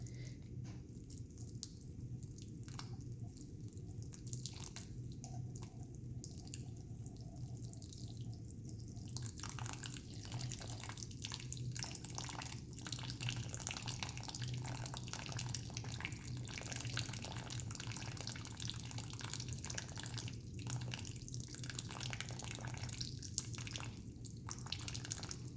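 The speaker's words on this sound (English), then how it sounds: "as the water is flowing." Water flows quietly through a channel in a stream table, giving a faint, continuous trickle marked by scattered small drips and splashes.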